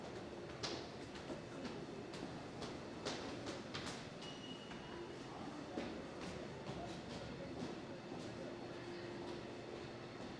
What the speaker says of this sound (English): let me see if I can show you a train in the lower level